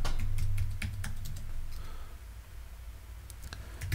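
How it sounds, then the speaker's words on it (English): Someone types a password on a computer keyboard, a quick run of light key clicks over a low steady hum, close and fairly quiet. "I'll type in my password."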